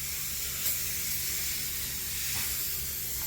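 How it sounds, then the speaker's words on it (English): Cooking oil sprayed from a can into a baking tray before pork ribs go in, a steady close hiss that runs almost continuously with slight swells. "I'm going to spray some oil down"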